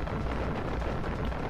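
A mortar explosion in Far Cry 5 is a dense, loud, rumbling blast that fills the whole short moment with broadband roar.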